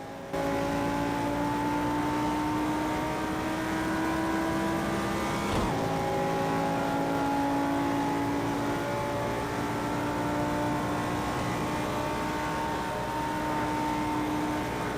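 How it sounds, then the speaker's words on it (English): Simulated car engine from a VR sim racing game played with a steering wheel, cruising on a highway: a steady, continuous engine drone whose pitch climbs gradually, with one brief shift-like break partway through and no talking. "just let you hear some car noises without my very annoying voice speaking over them"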